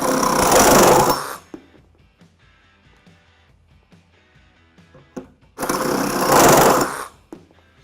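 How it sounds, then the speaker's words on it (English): A Bosch 18V brushless reciprocating saw cuts through thin-wall pipe in two loud, fast bursts of about a second each, separated by quieter clicks and handling noise. "As you can see with the cutting of the thin wall tubing, the saw and the blade combination went very fast"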